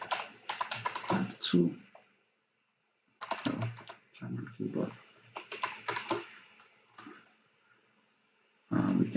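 Rapid bursts of computer keyboard typing come in several clusters separated by pauses, close and fairly quiet, with a person speaking briefly between keystrokes.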